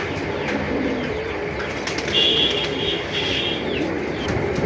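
Racing pigeons, several cocks, cooing in a loft amid a dense, constant bed of soft coos and faint wing flutters, with no one speaking.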